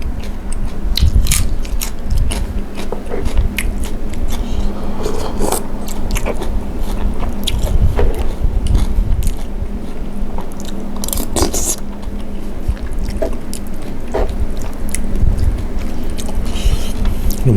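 Steady close-up eating of Thai green curry with fried chicken and rice noodles, continuous loud chewing, biting and crunching with wet squishy textures throughout, no talking.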